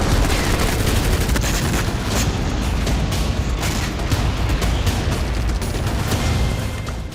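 Heavy exchange of gunfire between Israeli forces and Hamas fighters in northern Gaza, a dense, loud, continuous barrage of rapid shots and booms with no pauses.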